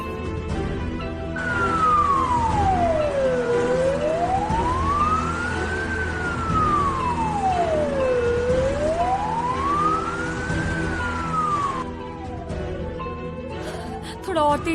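An ambulance siren wails in slow, rising and falling sweeps, loud and close, over a steady engine and road rumble, then fades briefly near the end.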